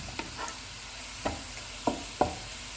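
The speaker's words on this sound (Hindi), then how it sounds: "प्याज को गोल्डन फ्राई करेंगे।" Onions fry in hot oil with a soft background sizzle, broken by a few sharp scraping clicks of a spoon stirring against the pan, fairly quiet and close.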